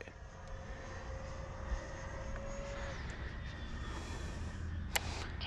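An E-flite Viper 90mm EDF model jet flies on its first flight, a steady whooshing ducted-fan roar. It stays at an even, moderately distant level throughout, with a sharp brief click near the end.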